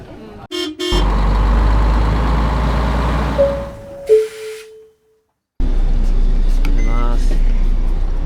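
Bus traffic on a street in Kamakura, Japan: a loud, close engine rumble with a brief tonal horn or beep in the middle, a short near-silent gap, then heavy vehicle noise returning.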